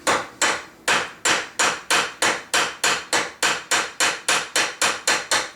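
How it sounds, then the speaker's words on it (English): Small hammer with a narrow rounded cross peen tapping on gunsmithing work, about sixteen sharp, evenly spaced, close blows in a steady rhythm with no talk. "I'm just using a small hammer that's got a narrow rounded cross peen on it."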